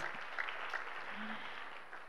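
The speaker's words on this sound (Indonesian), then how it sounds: "Yuk beri tepuk tangan buat Tuhan kita Yesus Kristus" Church congregation applauding during a sermon, a steady wash of many hands clapping at moderate distance, fairly soft and even, with faint voices mixed in.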